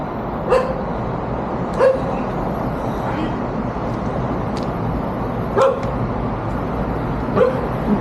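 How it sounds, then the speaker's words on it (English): A dog barks repeatedly at a passing stranger in a village beside a railway in Thailand, sharp moderately close barks spaced a second or more apart over a constant outdoor background. "The dog is barking at me."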